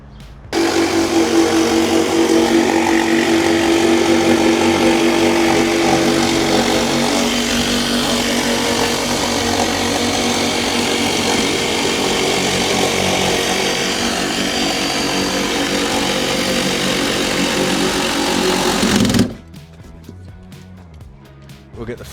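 A power tool, likely a saw, cuts a piece in half, giving a loud, steady buzzing drone that runs for about eighteen seconds, then stops abruptly and leaves quiet handling noise.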